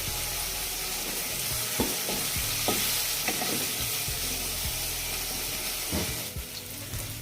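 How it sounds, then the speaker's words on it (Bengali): Vegetables with green peas stir-frying in a pan for vegetable noodles, a continuous close hiss of frying with a few soft scrapes and knocks from the spatula, no voices. "আবারও একটু নেড়ে চেড়ে দিয়ে দিচ্ছি কিছুটা পরিমাণ মটরশুঁটি"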